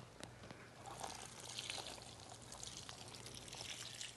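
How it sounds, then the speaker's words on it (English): A strained kelp and humic acid soak is poured over garden plants, giving a steady, soft splashing trickle that runs continuously for several seconds, close and fairly quiet, with no talking. "I'm going to just go ahead and pour it over some plants"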